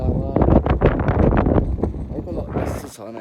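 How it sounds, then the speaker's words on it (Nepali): Strong wind roars and buffets steadily while riding through Mustang, Nepal, a loud, rough rush that dominates throughout, with voices talking over it and the gusts easing slightly near the end. "हावा चाहिँ खतरा लागिरहेको"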